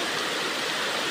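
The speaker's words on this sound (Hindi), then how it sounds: "आज हम आपको पानी का चश्मा दिखाते हैं।" Spring water flowing from a mountain source in a hill area: a steady, dense rushing hiss, constant and fairly loud throughout, close by, with no voices.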